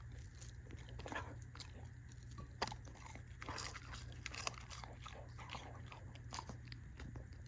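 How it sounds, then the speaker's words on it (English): Close, crisp chomping and crunchy bites are made as a mock ASMR bit in a craft room, irregular bites over a low steady hum with no talk. "That was some good chomps."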